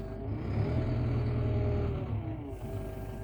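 A 5s F1 engine held up on its hand throttle gives a steady, close, low rumbling drone that swells slightly and then eases back, with no voices over it.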